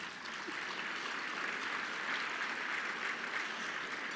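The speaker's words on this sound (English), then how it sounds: "That deserves an applause." An audience at a veterans day luncheon gives a dense, steady round of clapping that carries evenly throughout at moderate loudness from a large indoor crowd.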